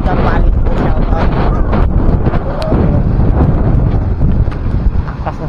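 Strong seaside wind over big waves buffets the microphone in loud, continuous gusts, with a rough, roaring rush filling the whole clip.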